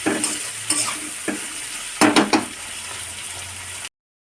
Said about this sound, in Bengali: টমেটো কটাও লাল লাল করে সঙ্গে ভেজে নেবো একটু